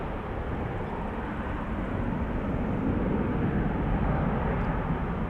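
Delta Airlines Flight 163 taking off from Amsterdam Schiphol Airport, a broad continuous jet engine roar heard up close that swells slightly louder toward the end.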